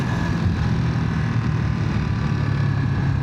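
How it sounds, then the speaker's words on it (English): A 2025 Ducati Monster motorcycle with its factory exhaust drones steadily at speed, heard from the rider's position, loud and constant under heavy wind noise, with no talk. "That sound, man, that factory exhaust sound is like really something"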